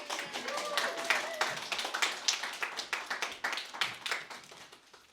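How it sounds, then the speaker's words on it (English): A small audience at a poetry reading claps in a scattered, moderately close burst of individual hand claps that thins out toward the end, with a brief voice early on. "Everyone, clap for Caden."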